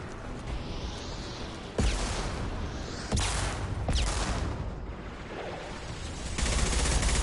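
An impact shot is fired in a shooter game, heavy booming blasts landing in a few sharp bursts amid a dense roar of sustained gunfire and explosions, loud and close.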